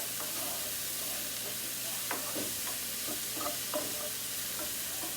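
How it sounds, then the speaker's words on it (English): Food sautés in a hot pan with a constant loud sizzle, broken by a few soft stirring scrapes near the middle. "let this saute a little bit."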